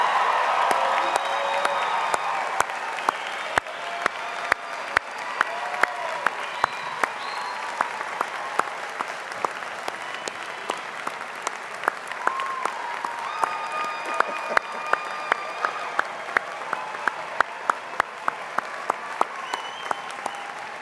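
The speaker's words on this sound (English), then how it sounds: "How about a big applause for all our graduates of 2019?" A large audience at a Millersville University winter commencement applauds the 2019 graduates, sustained crisp clapping with scattered cheers and whoops, steady and moderately distant for about twenty seconds.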